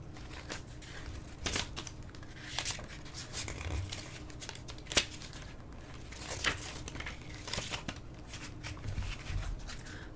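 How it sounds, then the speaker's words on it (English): A deck of oracle cards shuffled by hand, soft riffling and sliding with sharp papery snaps and flicks at irregular intervals, close and fairly quiet. "I'll stick them in the deck separately and then shuffle them."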